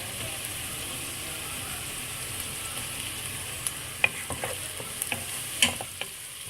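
Onions and tomatoes for a Sri Lankan fish curry sizzle steadily in a pan, and the stirring turns into a run of close scraping clicks and knocks during the second half.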